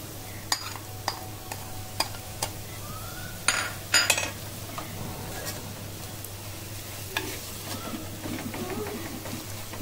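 Spice powders of chili, coriander and turmeric being stirred in a frying pan for an inchi puli dish, with scattered spoon scrapes and clinks over a low steady hum and a faint background sizzle.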